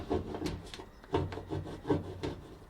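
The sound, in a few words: scraping adhesive residue off dryer door seal area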